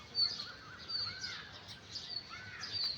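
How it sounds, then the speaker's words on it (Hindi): Faint, high bird chirps repeat on and off against a quiet outdoor morning background in nature, soft and somewhat distant. "चिड़ियों की चहचहाहट को"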